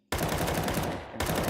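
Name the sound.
gunfire wall bang in a video game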